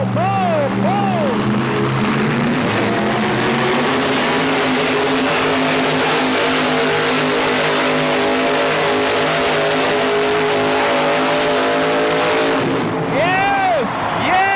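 A GMC truck engine roars at sustained full throttle during a 1987 truck pull event, loud and steady for the whole stretch, with an announcer talking excitedly over the noise.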